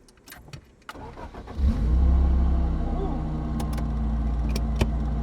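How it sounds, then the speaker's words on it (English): A Toyota AE86 with a swapped supercharged 7AGZE engine cranks and catches after a few faint clicks, then settles into a loud, steady idle rumble close by, with a few sharp clicks over the running engine. "So let's start the car."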